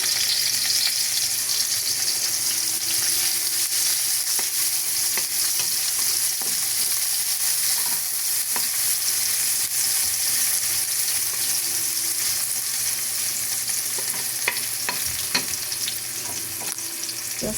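Ginger is stir-fried in a hot pan for chicken tinola, giving a steady, loud, close sizzle and crackle throughout with faint scraping stirs and no voices.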